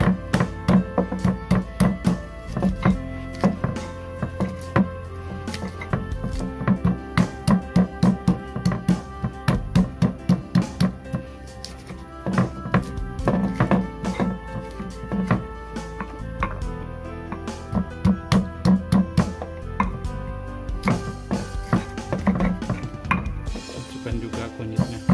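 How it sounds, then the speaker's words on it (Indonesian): Spices pounded and ground by hand with a stone mortar and pestle (ulek) for spicy chicken wings, heard as close repeated knocks and scraping strokes in uneven bursts throughout. "Ini kita ulek manual."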